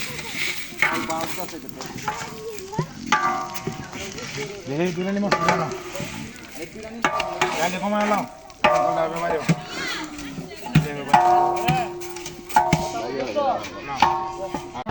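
Raw rice being stirred and dry-fried in a large pot during village wedding cooking, with steady scraping and sizzling under near-constant loud talk and background chatter.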